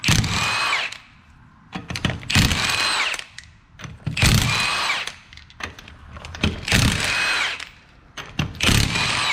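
A pneumatic or power impact tool removes 3/4 inch lug nuts from a rear wheel of a Chrysler Sebring, buzzing loudly in four close bursts of a couple of seconds each, separated by short pauses.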